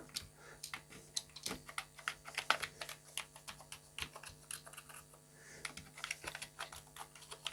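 Keys being pressed one by one on an Atari 65XE computer keyboard under repair, a string of close, sharp plastic clicks at uneven intervals over a faint steady hum.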